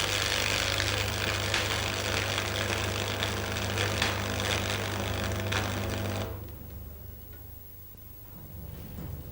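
Electric arc welding held with an overly long arc gives a loud, steady buzzing crackle that runs for about six seconds, then cuts out abruptly as the arc goes out, leaving only a faint hum.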